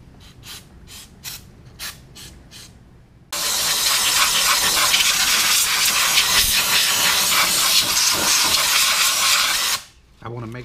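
Brake cleaner sprays in a steady, loud aerosol hiss for about six seconds while cleaning grease around a Honda Goldwing during an oil and filter change, preceded by short hissing bursts and followed by a brief pause.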